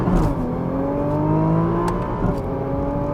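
A 2020 Nissan GT-R Nismo accelerating hard. A loud, steady engine roar and whine climbs in pitch through the gears, with a couple of sharp crackles and no voices.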